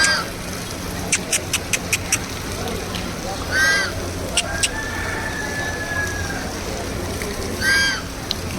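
Ducks at an outdoor agricultural fair let out two honking calls a few seconds apart amid crowd noise and chatter, with a burst of sharp clicks early on.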